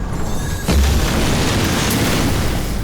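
A grenade blast in the video game Mission Improbable, a single deep boom that hits near and loud, then leaves a sustained rumbling roar behind it.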